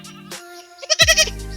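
A goat being given medicine lets out a loud, wavering bleat near the end, after a short quiet stretch, close by and alone with no talk.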